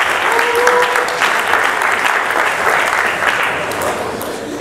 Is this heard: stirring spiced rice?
no